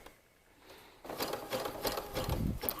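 A home sewing machine stitches a knit binding, starting after a short quiet pause and then running in a close, steady, rapid mechanical patter.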